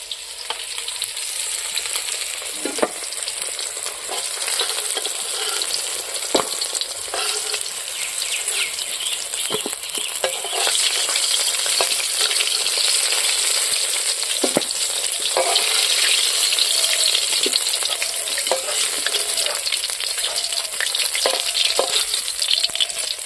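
Onions sizzle loudly in a pan of oil just used for frying rui fish for kalia, with a constant crackling hiss and occasional scraping stirs, close and continuous.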